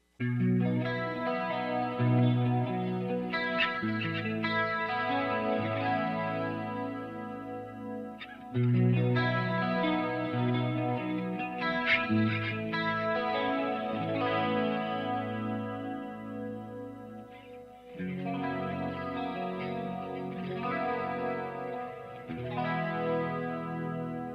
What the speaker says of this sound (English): I'm going to turn on some chorus and delay now